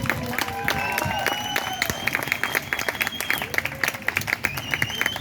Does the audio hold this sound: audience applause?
yes